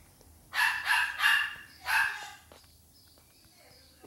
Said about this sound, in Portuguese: como é que até agora esse cachorro tá latindo?